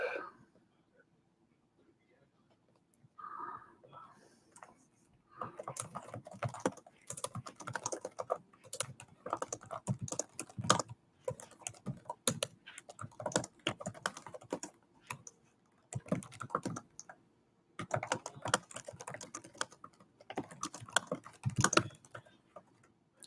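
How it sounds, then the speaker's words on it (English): Keyboard typing on a computer during a live online Q&A, bursts of quick irregular key clicks separated by pauses, close and crisp, with a voice speaking briefly at times. "I'm just typing in here, seeing if anyone has any questions."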